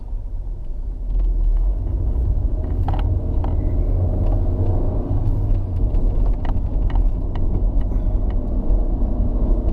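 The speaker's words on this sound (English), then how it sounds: "We're gonna start off nice and easy on just regular street driving." Honda Prelude with a distributor fault cruising on regular city streets, its engine rumbling low and steady with road noise, close and continuous.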